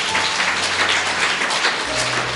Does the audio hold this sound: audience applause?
yes